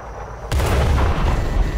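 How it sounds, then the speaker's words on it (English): Artillery fires in the tank video game World of Tanks: a sudden loud, deep boom about halfway through, followed by a rumbling roar that continues to the end. "There's the artillery."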